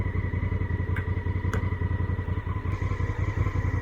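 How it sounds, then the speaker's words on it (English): A Honda CRF1000L motorcycle with a loud stock exhaust idles close by, its steady low pulsing throb running throughout with a couple of brief clicks. "this bike is loud, has a very loud stock exhaust"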